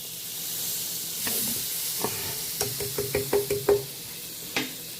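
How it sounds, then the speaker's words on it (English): A whisk scraping and stirring browned fond in a hot pan for braised beef shanks, a soft sizzle underneath with a quick run of close, rhythmic metallic taps against the pan. "Lift some of that fond off. Whisk it around. Get all those nice brown bits out of there."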